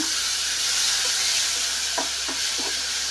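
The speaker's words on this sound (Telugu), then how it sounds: "ఒక 2 నిమిషాలు వేయించుకోవాలి, కొంచెం చిక్కబడేంత వరకు" Mango pulp frying in ghee in a pan for mango kesari, a steady loud sizzling hiss with a few soft bubbling pops and light stirring knocks.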